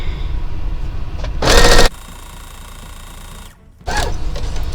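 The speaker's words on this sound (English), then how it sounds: "And we'll go ahead and sew this up." A sewing machine runs a short burst while stitching the seam of a McCall's 2447 vest, then a second brief run after a pause, close and loud over a quiet room.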